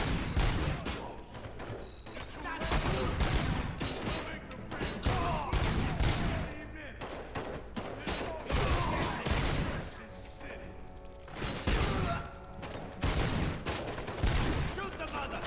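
Loud, sustained gunfire fills a RoboCop Rogue City shootout, with dense bursts of shots and impacts coming in waves across the whole stretch.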